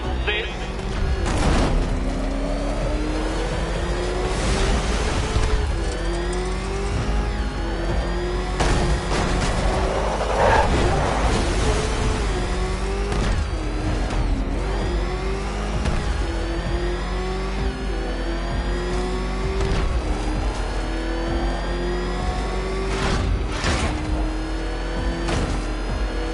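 The Batmobile's engine in Batman: Arkham Knight drones and revs continuously with rising and falling pitch, joined by impacts and bursts, under a character's talking.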